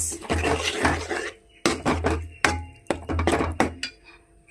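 Tamarind water poured into onion thokku in a pan and stirred, with repeated knocks and scrapes of a spoon against the pan coming in short, irregular clusters, close and moderately loud.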